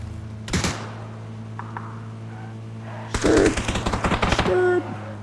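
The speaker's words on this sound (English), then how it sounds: "And then shoot the BZ grenade launcher." BZ grenade launcher in the video game PUBG, several loud metallic firing bursts with rapid mechanical clacks, one near the start and a longer cluster later, over a steady low hum.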